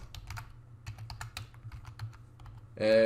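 Quick, uneven keystrokes on a computer keyboard fill about three seconds, clicking alone at a steady moderate level before a brighter tone cuts in at the end.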